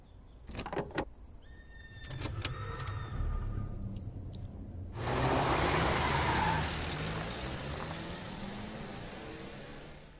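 Car in the video game Road 96: a few clicks and thuds, then an engine starts and idles with a broad rumble that swells and holds, no one speaking.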